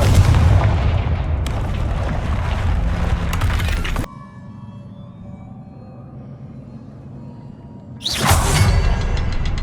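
Confringo fire spell in the Hogwarts Legacy video game: a loud, crackling blast of explosive booms for about four seconds, then a quieter rumbling lull with faint ringing tones, and a second loud burst near the end.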